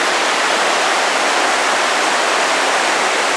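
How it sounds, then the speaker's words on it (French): A muddy mountain stream fed by a waterfall rushes beneath a small bridge in the rain, giving a constant loud hiss of churning water that stays close and unbroken, with nobody talking. "voilà ce qui descend de la cascade qu'on vient de voir."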